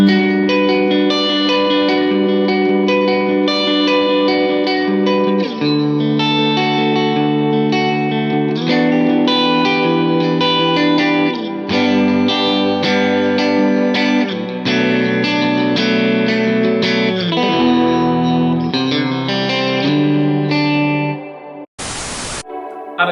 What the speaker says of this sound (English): That's my favourite tone on the Tele, just that middle position. It's got a very kind of quacky tone to it.